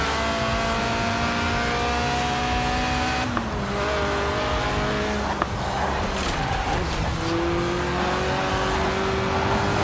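A Lotus Elise Sport 190 in Forza Horizon 4, its 1.8-litre engine revving toward 8,000 RPM, wails loudly and continuously, its pitch rising through the gears with brief dips at the shifts, alone without talk.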